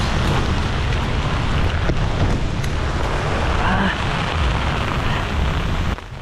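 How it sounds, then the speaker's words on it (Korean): Rain falls steadily in Can Tho, Vietnam, a dense, loud, even hiss that fills the whole stretch and drops away just before the end. "오랜만에 비가 오고 있어요."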